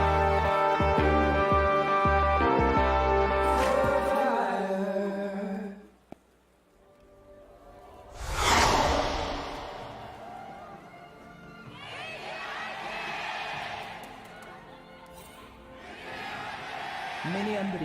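An esports arena crowd at the LCK Summer 2018 finals between KT Rolster and Griffin, a swelling roar of cheering voices rising in waves after musical intro tones, under a commentator speaking.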